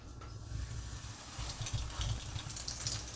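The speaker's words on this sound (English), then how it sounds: "That's what we're looking for, a nice sizzle." Salmon croquettes coated in flour and cornmeal sizzle in hot grease, a continuous crackling hiss with scattered pops, close and fairly quiet, with no talking.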